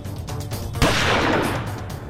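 One sharp gunshot cracks after a moment of low rumble, followed by a long fading reverberation.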